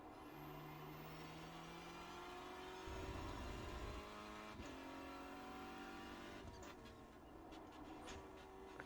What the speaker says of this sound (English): I keep blipping the throttle on the downshift and I don't need to.